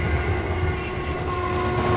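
A train nears a railway level crossing in a film scene, a loud steady rumble with sustained horn-like tones running throughout.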